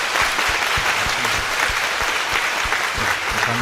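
A church congregation at Ildong Dongbu Church claps loudly for newly welcomed members before a baptism, a thick, continuous burst of applause close by with many overlapping hands and no talk over it.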